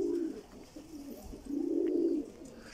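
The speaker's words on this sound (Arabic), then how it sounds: "طبعا انا هسه مطير حمام عراقي" Iraqi pigeons cooing: soft, low, rolling coos in two phrases, the second longer and fuller, fairly close and quiet, with no other voices.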